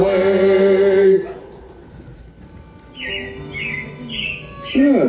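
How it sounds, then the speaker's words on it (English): Animatronic robins chirp in a short run of repeated tweets in Disney's Carousel of Progress attraction, heard against a quiet indoor background after a brief tonal musical passage. "it looks like the Robins are getting ready to celebrate Valentine's Day today"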